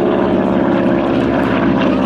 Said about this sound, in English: Aircraft with the markings of number 73 Squadron, Royal Air Force, as flown by New Zealander Cover Cade.